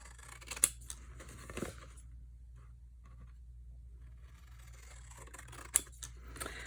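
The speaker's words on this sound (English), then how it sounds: "We're just cutting off the corners so that they'll fold easier." Scissors snip the corners off a paper treat box in two sharp, quiet cuts several seconds apart, close by and otherwise near silence, with no one talking.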